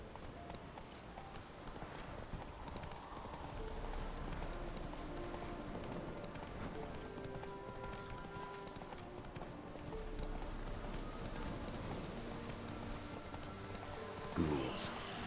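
Hooves of the horse Roach trotting in The Witcher 3 video game, a steady rhythmic clip-clop running throughout over light ambient game sound, moderately close and even.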